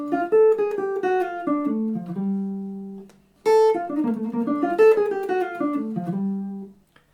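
A bebop phrase built on a major seventh arpeggio, played twice on a melodic instrument, with quick running notes that fall to a held tone and a short pause between the two passes.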